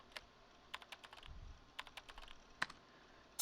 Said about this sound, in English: I opened some word processing software and began typing in my thoughts